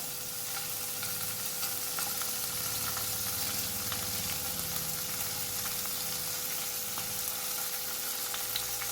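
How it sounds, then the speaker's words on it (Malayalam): Paneer cubes fry in hot oil in a pan, giving a steady, dense sizzle throughout, with occasional faint clicks as pieces are turned and no voices. "ഇത് ഒരുപാടൊന്ന് ഫ്രൈ ആവേണ്ട നമുക്ക് ഇടയ്ക്കൊന്ന് തിരിച്ചിട്ട് കൊടുക്കാം"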